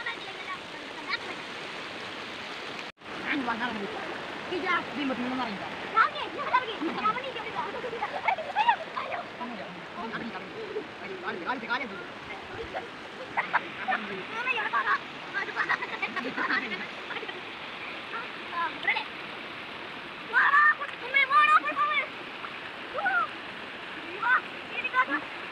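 A forest stream flows steadily at Nenmini, a continuous rushing wash of water with scattered splashes throughout and faint voices now and then.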